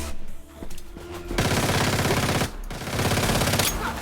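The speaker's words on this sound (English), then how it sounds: "Oh, they're shooting at me." Rapid automatic gunfire in the survival game Once Human, two sustained bursts of fast repeating shots with a short gap between them, loud and close, with no talk over it.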